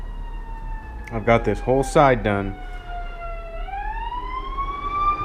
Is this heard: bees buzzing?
no